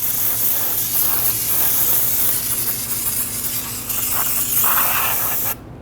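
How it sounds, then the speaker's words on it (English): Aerosol brake-cleaning solvent sprays steadily onto the rear brake assembly of a 2006-2012 Toyota RAV4, a loud continuous hiss lasting several seconds with slight dips before cutting off abruptly. "I'm going to go ahead and use some spray solvent, and I'm going to wash off all of the brake dust in here"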